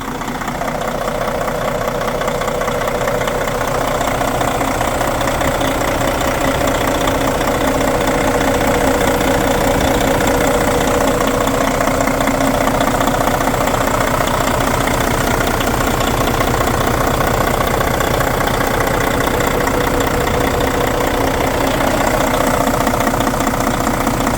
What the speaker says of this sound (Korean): 아주 엔진 소리가 짱짱